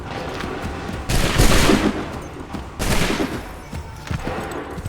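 Two heavy volleys of musket fire from a line of soldiers in the game Assassin's Creed 3, each a dense crackling burst of many shots roaring for about a second, with quieter battlefield noise between.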